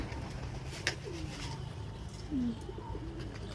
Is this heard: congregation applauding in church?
no